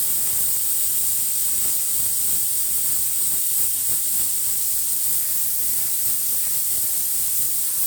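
Steady, loud hissing of steam escaping from a pressure cooker cooking goat meat, continuous and unbroken throughout, with no talking.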